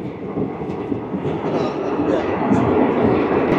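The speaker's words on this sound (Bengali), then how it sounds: "আবারও আমাদের ট্রেন প্রবেশ করলো আরও একটা টানেলে।" A train on the Jammu–Srinagar line rolls through a tunnel, giving a steady, enclosed rumble and roar with faint wheel rhythm that holds at a constant, fairly loud level throughout.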